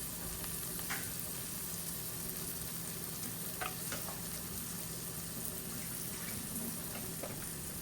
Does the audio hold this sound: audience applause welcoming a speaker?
no